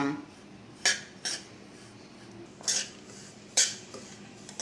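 Semolina (rava) roasts dry in a pan while a metal spoon scrapes and stirs it, leaving four or five sharp clinks spaced a second or so apart over a quiet background.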